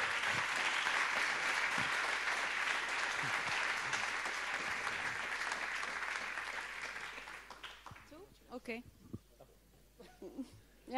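Audience applause at a tech talk event on future cities, a dense, steady roar of clapping for about seven seconds that then thins out to scattered claps and a few voices.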